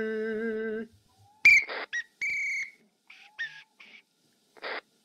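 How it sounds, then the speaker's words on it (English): Steam whistle on a 4MT model locomotive gives a thin, reedy toot, followed by several short, breathy, uneven whistle bursts separated by silence. "the whistle is so shit on this 4MT"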